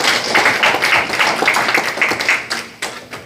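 An audience claps to welcome a speaker at a Gyeongnam civic forum, a brisk burst of hand claps that thins out into a few scattered last claps.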